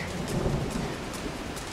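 Heavy rain pours down steadily with low rumbling thunder in the wilderness of the Valley of the Gods, a continuous dense wash of sound with no voices.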